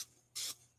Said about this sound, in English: we're going to spray that parchment again using the vegetable oil spray